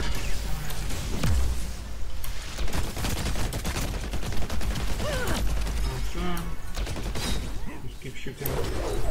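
Steady game gunfire from a Protector weapon in Heroes of the Storm, a continuous stream of shots and mechanical clanks with occasional thumps, busy and loud throughout.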